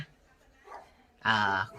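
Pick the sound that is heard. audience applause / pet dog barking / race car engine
pet dog barking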